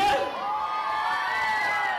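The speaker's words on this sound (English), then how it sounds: "Now, all the ladies, give us a cheer." Female audience at a Butlins Skegness holiday-camp show cheering on cue, a burst of high shouts and whoops that swells quickly and carries on as a sustained, fairly loud crowd cheer.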